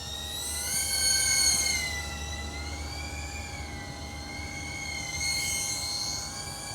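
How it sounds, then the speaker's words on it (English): An FPV drone, an underpowered starter model suited to cruising rather than freestyle acro, flies overhead with a steady high-pitched multi-tone whine of its motors that rises and falls in pitch as the throttle changes, fairly close and with no talk. "so that you can hear the noise of the drone."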